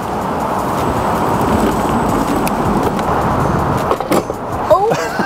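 Modified Ninebot go-kart in sport mode at full throttle: a steady, loud rushing roar of motor and wheels on the ground that holds throughout, with a few clattering bumps near the end.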